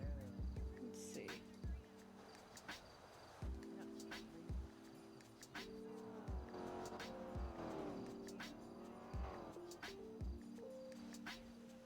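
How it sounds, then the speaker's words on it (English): A loud car in a GTA roleplay game revving and squealing its tires in repeated bursts, with engine pitch rising and falling, under intermittent thumps and speech. "Yes, everyone hears your loud car."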